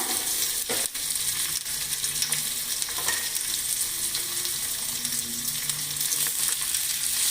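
Small shallots sizzle and crackle steadily in hot oil, a constant bright frying hiss with occasional scrapes of stirring, while making Madurai-style coconut-free chutney.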